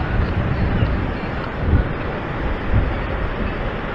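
Waves break steadily in shallow water at Cedar Point on Lake Erie, on a red flag day, mixed with strong gusting wind buffeting the microphone, a loud broadband roar with a few surges, no voices.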